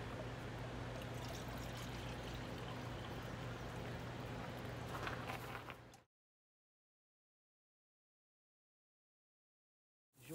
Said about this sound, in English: 3 cans of water.